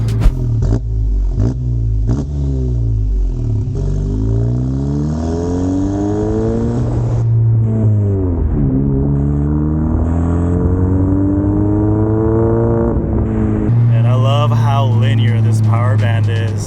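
Turbocharged 500hp VW GTI engine revving and building steadily, rising harmonics sweeping upward across repeated pulls, loud and close, with a person talking over it throughout.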